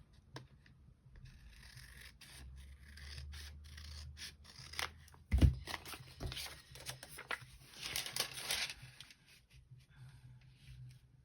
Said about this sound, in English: I think I need to snip this open.